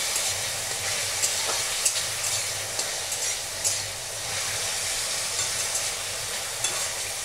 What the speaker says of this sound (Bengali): এটা আমি ভেজে তুলে নেবো